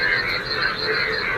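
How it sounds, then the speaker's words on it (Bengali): Yellow frogs in a rain-flooded field on a rainy morning make a dense, continuous croaking chorus, steady and fairly loud. "ব্যাঙের গান শোনো"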